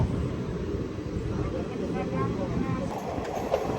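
A Chennai Central to Visakhapatnam weekly superfast express departs Tadepalligudem station with a low, steady rumble and light wheel clatter from on board, with faint voices underneath.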